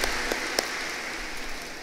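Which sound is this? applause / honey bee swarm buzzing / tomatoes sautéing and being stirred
applause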